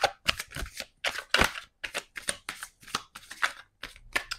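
Tarot cards shuffled by hand for a reading, a close, crisp series of rapid riffling bursts in a quick regular rhythm with brief gaps between.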